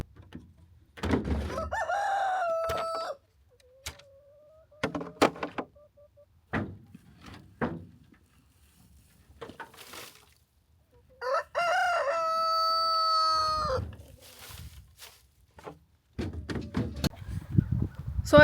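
Hens cluck intermittently between scattered knocks and clatter, and a rooster crows twice nearby, the second crow long and strong; no one speaks.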